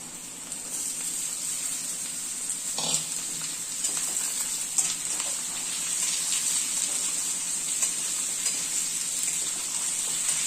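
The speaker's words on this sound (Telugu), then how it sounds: "టూ మినిట్స్ ఇలా ఆయిల్లో బాగా వేయించుకోవాలి" Pumpkin pieces frying in oil with onion in a pan for a pumpkin curry, giving a steady, quiet, high hissing sizzle that runs unbroken throughout with no talking.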